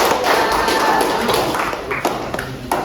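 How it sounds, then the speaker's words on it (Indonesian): A student group in a chemistry class gets applause. The dense clapping is close and lively, with sharp taps and thumps scattered through it, then it thins out toward the end. "kita beri tepuk tangan untuk kelompok"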